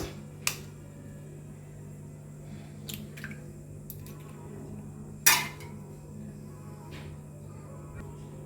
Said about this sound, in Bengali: আমি এবারে ডিমটা ফাটিয়ে নেব